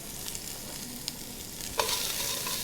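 Yellow onion sizzling in a hot pan with olive oil, a steady close frying hiss with light stirring clicks that swells louder near the end; no talking.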